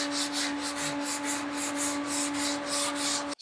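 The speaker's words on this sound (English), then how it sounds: "we'll block it out to remove some of these scratches" A sanding block is rubbed back and forth over auto body filler and glaze on a car panel, about a dozen quick rhythmic scraping strokes, close and alone, ending abruptly.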